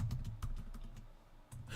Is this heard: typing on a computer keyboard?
yes